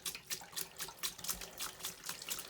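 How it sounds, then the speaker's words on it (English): A gallon of RV antifreeze glugs into a Winnebago Micro Minne FLX toilet, steady pulsing splashes of liquid, close and fairly loud, with no voices. "I'm going to grab this remaining gallon of juice. I'm going to pour this all into the toilet."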